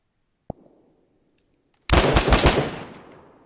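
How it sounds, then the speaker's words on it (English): A sudden loud burst of nearby gunfire in DayZ, a dense crackling volley that rings out and slowly decays, preceded by a faint single sharp pop. "Those shots are right next to us."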